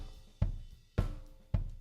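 A kick and snare routed to a drum bus hit alone in a slow steady pattern, three punchy low thumps with a brief snappy crack, dry and close with quick decay.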